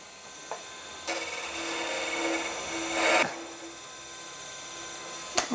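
A negative rake tool scrapes a resin dragon's egg spinning on a lathe, a hissing scrape that starts abruptly, swells, then stops amid a steady motor hum, with no voices.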